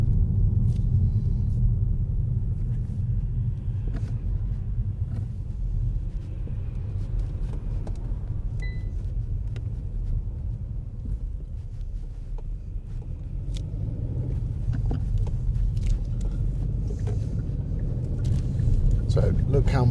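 Steady low interior rumble of a car driving along a road and straight through a couple of roundabouts, continuous and close throughout, with faint clicks on top.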